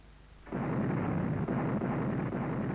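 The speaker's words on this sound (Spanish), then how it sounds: "Los cañones dispararon" A ship's cannons firing a salvo: quiet before, then a sudden loud roaring blast that holds as a dense, sustained rumble with faint repeated thumps inside it.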